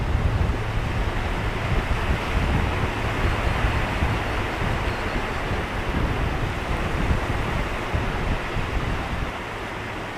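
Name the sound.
surf breakers crashing on the shore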